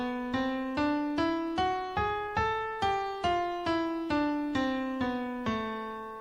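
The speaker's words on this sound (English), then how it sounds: "So if we play the melodic minor scale going up" A piano plays a melodic minor scale up and then back down, twelve clear, evenly spaced single notes rising in pitch and then falling, each ringing out near and alone.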